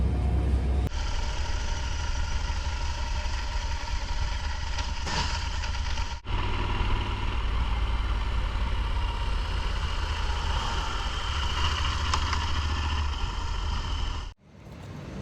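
Rented motorbikes idle nearby in Argentina, a steady low engine rumble running continuously with a brief dip midway and a drop near the end, no talking over it.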